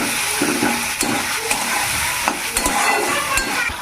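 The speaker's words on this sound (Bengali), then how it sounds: "এগুলোকে একটু তেলে ভালো করে ভেজে নেবো মশলার সঙ্গে ভালো করে কষে নেবো" Ginger, garlic and cumin paste frying in hot oil with turmeric and salt, a steady loud sizzle broken by scraping stirs and occasional clinks of a utensil against the pan, close and without talk.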